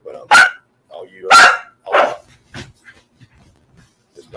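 Pet dog barking indoors, several loud close barks with a couple of yips trailing off, while a person talks in the background.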